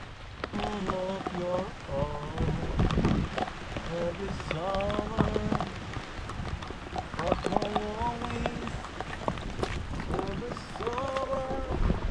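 Rain falls outdoors on a farm field beside a fishpond, a continuous wash of patter beneath frequent nearby speech, with scattered knocks and handling sounds.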